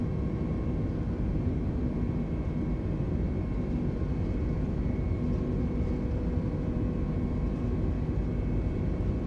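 Airbus A320neo engines at takeoff thrust in Microsoft Flight Simulator 2020, a loud, steady, broadband roar with a sustained whine on top, continuous and unchanging.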